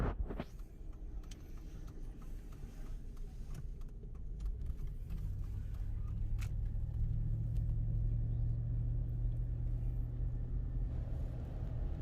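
A car heads northbound on a road behind a truck, giving a steady low engine and road rumble that thickens into a droning hum partway through, heard from inside the vehicle with no talk.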